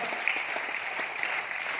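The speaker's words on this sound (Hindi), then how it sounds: "ताली जोरदार वाली बजा लीजिए सर" Audience applause at a direct-selling business seminar: dense, steady clapping from a crowd that holds at an even level for its whole length, with no voices on top.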